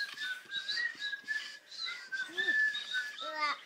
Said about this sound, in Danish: Og hør nu her, hvordan vi alle fløjte vil.